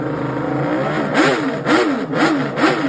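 A Honda RC166 six-cylinder four-stroke racing motorcycle engine revs hard in repeated rising and falling blips, its high-pitched wail loud and close.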